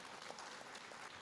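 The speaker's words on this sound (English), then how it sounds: "Let's give him a round of applause." A conference audience applauding at a men's conference, a dense, even wash of clapping heard from a distance and fairly faint, with no voices over it.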